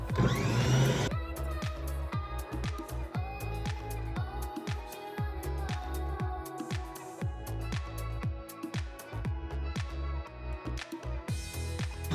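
A stand mixer kneads pita dough for gyros, its motor running as a steady loud whir with a repeating rhythmic thump from the dough hook working the dough against the bowl, close and continuous throughout.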